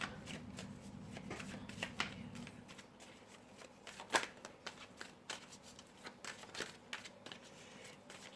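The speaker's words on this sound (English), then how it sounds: "Let me see if I can pick 2 more cards." Tarot cards are shuffled close up, a run of soft riffling and flicking with sharp snaps and taps of card stock, quiet and alone with no talking.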